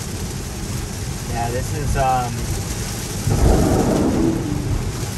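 Heavy rain drums on a Tesla while it drives on wet roads, with a broad steady wash and a low thunder rumble swelling near the end; someone speaks briefly over it.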